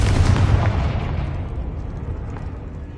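A Confringo fire spell bursts in Hogwarts Legacy: one big, close explosive boom that opens loud and rolls off into a long, fading rumble.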